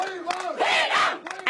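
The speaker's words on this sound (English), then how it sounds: "Their women cheer them on." Women in Srinagar raise a shrill, high ululating cheer, wavering calls from a small crowd urging on young men throwing stones, loud and close in short overlapping bursts.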